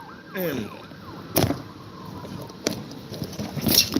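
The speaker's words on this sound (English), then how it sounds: "that was an ambulance" An ambulance siren passes outside, heard faintly with brief wailing sweeps early on while sharp knocks and room noise intrude in the foreground.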